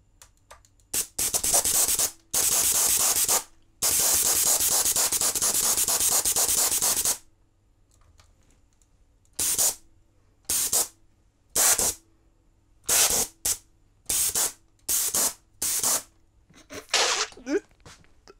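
A gas thruster on a drone fires in loud hissing blasts: first a few short bursts, then a long sustained rush, then a run of brief sharp puffs spaced about a second apart.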